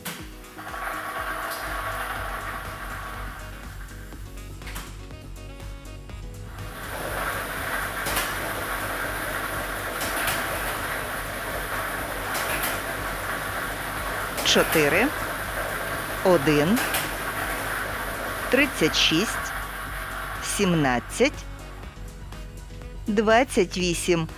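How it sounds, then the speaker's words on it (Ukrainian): A lottery drawing machine (drum B, ball set number 3) runs at a televised Ukrainian state lottery draw, giving a steady close whirring rumble of tumbling balls and air that builds and continues throughout, with a voice speaking at times. "І ми вмикаємо лототрон."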